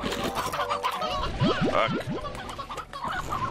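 Chickens cluck in the Slime Rancher video game, with a short run of rising clucks near the middle over busy game music and ambience, and a brief spoken word.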